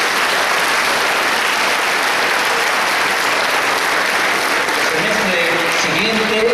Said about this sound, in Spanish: Y para eso tenemos un fuerte aplauso